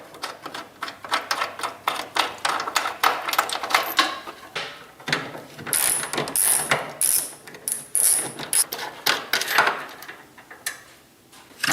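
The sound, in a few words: removing 13 mm bolts from a 2022 Ram TRX rambar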